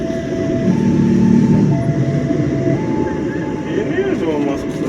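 Train rolling into Rangkasbitung station, a steady rumble of wheels with a long tonal squeal near the start and faint squeaks later, while people talk nearby.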